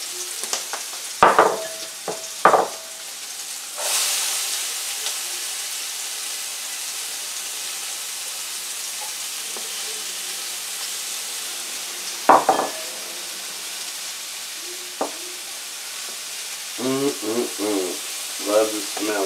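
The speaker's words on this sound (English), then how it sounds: "What I'm going to do first is I'm going to saute up these veggies here." Onions and peppers sautéing in a pan for pork chops: a steady close sizzle runs throughout, broken by occasional scraping stirs and utensil knocks, with brief speech near the end.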